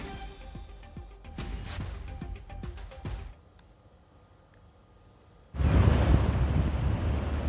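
The swollen Barakar river in Jharkhand runs high after heavy rain, heard as a loud, steady rush of churning water that cuts in near the end after a stretch of unrelated tones and quiet.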